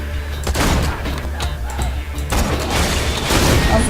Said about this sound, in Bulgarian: Какви са тези експлозии,